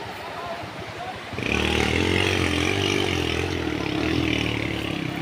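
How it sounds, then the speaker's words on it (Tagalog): A tricycle engine rises abruptly and stays loud and near as the vehicle rolls past toward a village, its motor droning steadily, with someone talking alongside. "Yung tricycle na yan guys, papasok po ng baryo ng Santo Niño guys."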